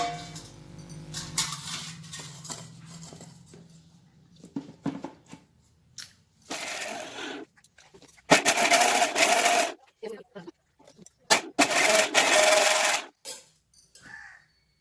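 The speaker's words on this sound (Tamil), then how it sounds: "இப்போ இதை மிக்சியில் போட்டு அடித்து ஜூஸ் போட்டு எடுத்துக்கலாம்." A mixer grinder blends peeled, cut beetroot into juice in loud, close bursts that start and stop several times, following quieter handling sounds and some talk at the start.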